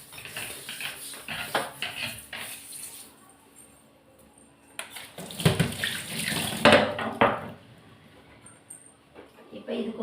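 Water pours and splashes in uneven bursts while a kitchen stove is cleaned, with running-tap gushes loudest in the middle and a voice speaking now and then.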